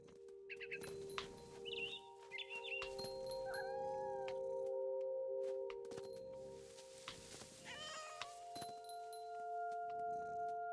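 A cat's meows, several rising and falling cries, sound from What Remains of Edith Finch, set against a steady piano tone and other game sounds, with no talk.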